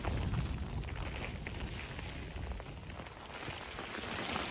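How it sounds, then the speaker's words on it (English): Steady, dense patter of rain or hail drumming on a taut tent in freezing winter mountain weather, loud and continuous, close around the listener with no voices. "rain on the tent, or hail, or whatever?"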